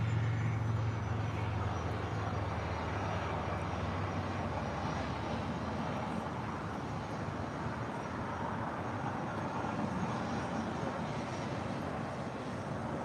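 A steady, continuous roar of an airliner's engines at LAX during takeoff, broad and sustained at middle distance with no talk over it.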